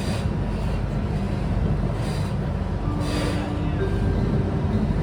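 Steady, loud rumble of a moving train carriage in Kuala Lumpur, unbroken and enveloping from start to finish with faint hum and rattling over it.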